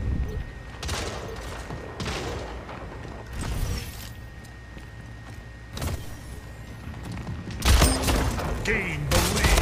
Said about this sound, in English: To shoot my gun.